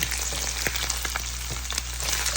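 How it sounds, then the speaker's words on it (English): Jamaican ackee and saltfish sizzles and crackles steadily as it browns in a hot pan, with a faint low hum beneath and occasional soft pops. "Let it become balanced while it's browning up nicely. Frying up nicely."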